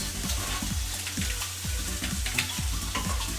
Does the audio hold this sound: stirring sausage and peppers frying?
yes